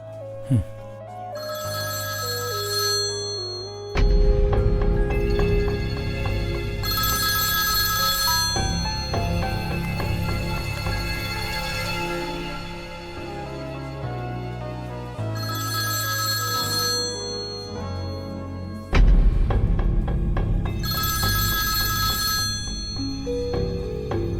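A telephone rings in repeated bursts, a bright electronic ringtone melody cycling several times, loud and close with no talking.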